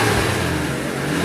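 Engine of a 2012 Suzuki Carry Futura 1.5 pickup revved up, a close, steady mid-pitched roar held at raised RPM for a moment with no voices.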